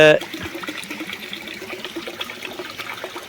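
About a litre of cow dung algae mother liquid is poured into a container, a close splashing trickle of liquid while a person talks over it.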